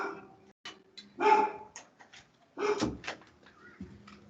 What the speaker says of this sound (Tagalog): Kakahol-kahol yung aso.